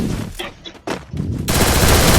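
Video game gunfire while aiming for a headshot: loud, dense bursts of rapid automatic shots with brief gaps, ending in a sustained barrage.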